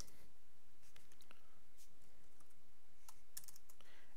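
Quiet, close keystrokes come from a computer keyboard during C# coding, a rapid irregular run of soft taps and clicks with brief pauses between bursts.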